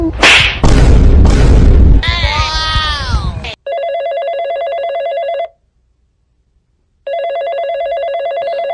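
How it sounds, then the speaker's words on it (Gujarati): An electronic telephone ringtone rings loudly in two long steady bursts separated by a pause of silence, after a stretch of loud talking and laughter. "લે ભગાનો ફોન આવ્યો."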